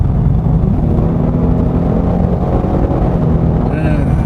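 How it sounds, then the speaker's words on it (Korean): Ford Mustang with a 2300cc four-cylinder engine and its normal exhaust mode, giving a steady, loud, deep drone from inside the car while driving that continues without a break. Faint higher tones come in near the end. "4기통 2300cc에서 나올 수 없는 배기음이 나오곤 있어요"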